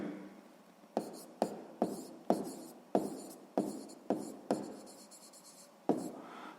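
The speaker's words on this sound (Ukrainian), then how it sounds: "Записуємо в дужках чого грам." A pen writes by hand on paper during a sixth-grade math exercise, with a series of close, crisp scratching strokes. Each stroke starts with a sharp attack and tapers off, about eight or nine in a loose rhythm.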